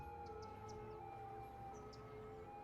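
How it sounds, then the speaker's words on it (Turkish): Police car siren in the Cities Skylines city-building game, a steady wailing tone held faint and distant beneath a low ambient hum, with a few small blips and no speech. "Polis arabası."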